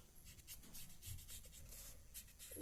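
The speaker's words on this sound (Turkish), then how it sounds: "Hemen keçeli kalemimiz alalım böyle." A felt-tip marker squeaks and rubs across paper in short, scratchy strokes while a flag is drawn, close and quiet.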